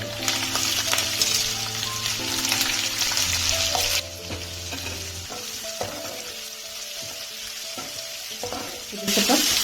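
Chopped onion fries in hot oil with crushed garlic in a pan for tomato gojju. The sizzle is loud and close, broken by stirring clatter and a brief rush of water near the end.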